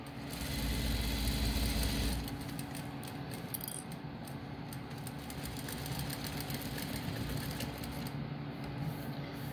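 A sewing machine stitching a fabric face mask runs in a steady, fast mechanical whir with a rapid rattle, louder at the start and then continuing evenly close by, with no talk.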